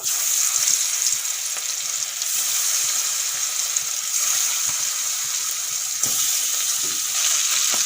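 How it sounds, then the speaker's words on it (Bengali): Fish rubbed with turmeric and salt fries in hot mustard oil, a loud, continuous bright sizzle that holds evenly throughout with small crackles and no talking. "এখন হলুদ নুন মাখা মাছগুলো ভেজে নেব"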